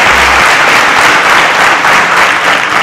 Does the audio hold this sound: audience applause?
yes